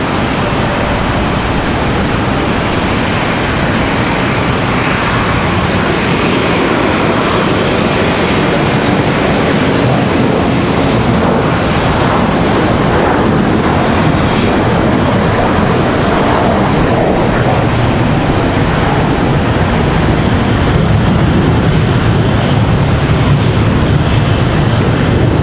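A Boeing 717 airliner at Charlotte Douglas airport roars steadily and loudly, a broad continuous jet engine rumble that holds through the whole stretch with no talk.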